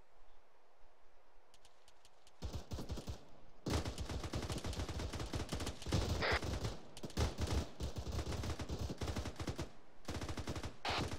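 Automatic gunfire in a Spartan 1 platoon training exercise, with long rapid bursts of shots starting after a couple of seconds of quiet and continuing in loud, dense volleys with brief pauses.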